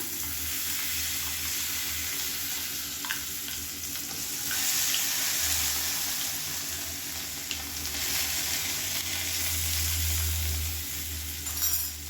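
Mustard seeds, urad dal and curry leaves in hot oil are poured into a thin chutney, giving a steady close sizzle that swells in two louder bursts, with faint stirring and clinks.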